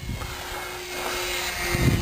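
A hopped-up RC Mini Mag model airplane runs its electric motor at half throttle, a steady, continuous buzzing whine with a high tonal line that holds even throughout, close by and fairly loud, with no talking.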